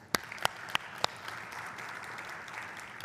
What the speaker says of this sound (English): let's give ourselves a huge round of applause